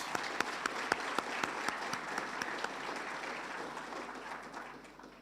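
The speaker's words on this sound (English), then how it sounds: "I think we all join to applaud the youth leaders who have spoken before us" Audience at an International Anti-Corruption Day event applauds the youth leaders, several sharp near claps over a steady crowd patter that gradually thins and fades.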